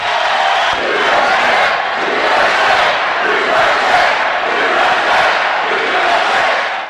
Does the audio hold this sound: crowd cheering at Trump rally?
yes